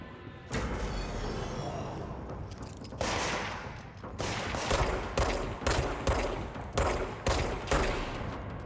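Pistol fire in the video game Control: a burst of repeated loud gunshots, first a couple of spaced reports, then a steady run of about seven evenly paced shots, each with a booming tail over a continuous game background.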